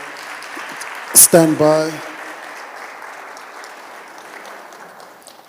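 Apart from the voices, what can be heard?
audience applause for panel speakers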